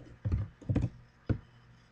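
Three quick, close taps on a computer keyboard as text is typed, two clustered together and one after a short gap, with no talking.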